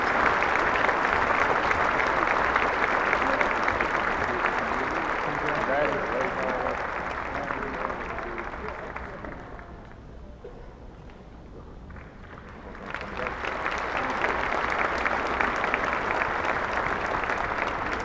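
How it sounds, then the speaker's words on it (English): Sustained applause from a large audience at a spring commencement ceremony, loud and steady, dipping briefly to a quieter patch before swelling again to full clapping. "Let's have one more round of applause for Dr."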